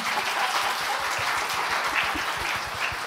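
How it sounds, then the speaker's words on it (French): An audience applauds at a round-table panel on women in defence where young people address their peers: sustained, thick clapping from many hands, loud and even throughout, with no speech on top. "On peut applaudir Binta."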